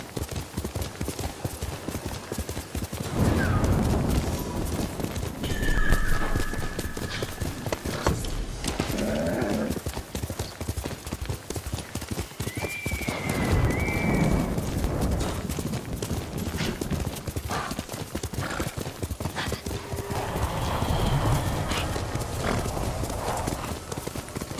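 Horse hooves clip-clop in rhythmic galloping strides in the video game Ghost of Tsushima, running continuously through the scene, with a few brief whinnies and wind-like ambience behind them.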